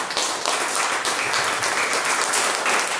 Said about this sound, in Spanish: Den un aplauso ahí al Señor